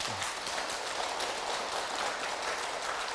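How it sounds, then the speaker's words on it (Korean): Faint, even applause from listeners at a Buddhist meditation lecture, a soft continuous patter heard at a distance without any talk. "그런 의미에서 박수 한번 팍 치십시오."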